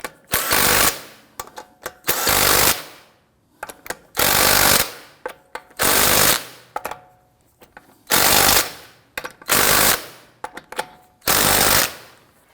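Impact wrench snugging down lug nuts on a 2001-2009 Volvo S60 wheel, eight loud rattling bursts of about a second each separated by short pauses, close by.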